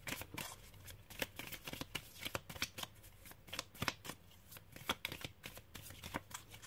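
Tarot cards riffled and shuffled close up, a dense run of crisp papery flicks and slaps with repeated sharp bursts, with cards drawn and set down, and no voices.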